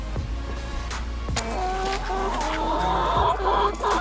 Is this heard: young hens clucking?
yes